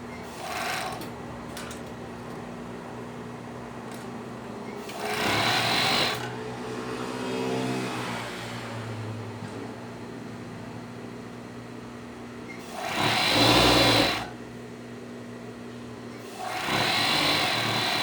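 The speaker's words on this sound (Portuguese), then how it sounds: "aí nós vamos lá para overlock de novo" An overlock sewing machine closes the side seam of boxer briefs, running in several short bursts of loud, close whirring between quieter pauses filled with low background hum.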